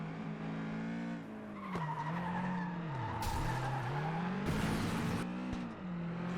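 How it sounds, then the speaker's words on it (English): Racing-game car tyres squeal and chatter for grip in FlatOut 2, a wavering high screech over the steady engine drone, with short bursts of harsher skid noise. "You hear those wheels chattering as they fight for grip."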